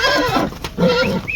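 A horse neighs at a livestock horse market, two nearby whinnying calls in quick succession with a brief pause between, fairly loud and without talk.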